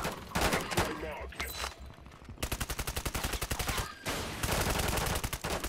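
Call of Duty video game gunfire, with rapid automatic bursts and fusillades, loud and close, with a long steady machine-gun-like rattle in the middle and more shots after it.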